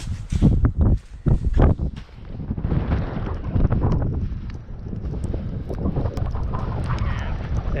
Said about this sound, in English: it is windy as hell out there.